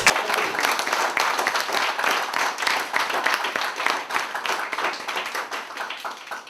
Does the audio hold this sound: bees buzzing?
no